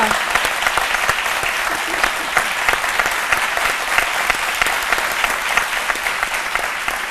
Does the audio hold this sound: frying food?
no